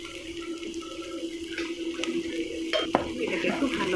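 Spice paste for a bata fish curry is fried and stirred in a pan, with a soft steady sizzle under scraping spoon strokes and a few sharper clinks against the metal, close by.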